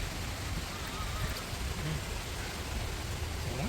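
Steady rain hissing continuously, with dense broadband patter and a low rumble underneath, fairly close and even throughout.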